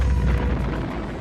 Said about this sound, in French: explosion nucléaire.